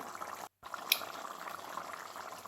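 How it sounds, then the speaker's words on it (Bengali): Chicken curry with kasuri methi bubbling in a pot near the end of cooking, a low continuous simmer with soft popping, close and fairly quiet, briefly cut by a moment of silence. "আমার মাংসটা প্রায় হয়ে গেছে, এখন দেখো ফুটছে।"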